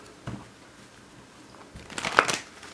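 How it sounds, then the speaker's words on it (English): Tarot card shuffling: a short soft riffle near the start, then a louder, denser papery flutter of cards being bridged and shuffled close by, no talking. "One more shuffle."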